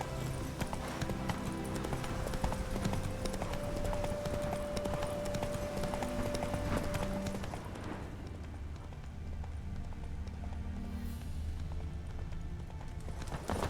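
Hooves of the horse Roach in The Witcher 3 beat in a fast, steady galloping clip-clop, loud and continuous, over game ambience that thins toward the end.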